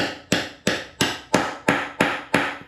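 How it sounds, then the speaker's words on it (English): Seven sharp metallic hammer blows drive a frozen bearing into a motorcycle wheel hub in a steady rhythm, each strike ringing briefly before the next, loud and close with no talking. "There, you can tell the sound change."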